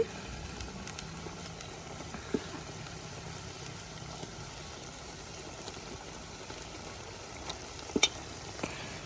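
Pieces of sea fish (kanagantala) sizzle softly in spiced oil in a pan, a steady low frying hiss with a few faint clinks of utensils and no talking.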